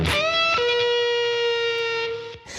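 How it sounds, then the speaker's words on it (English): An electric guitar plays a sliding power chord through a fuzz pedal, a gritty sustained chord ringing for about two seconds before cutting off, then a short new attack, close and solo. "This sounds good with the fuzz."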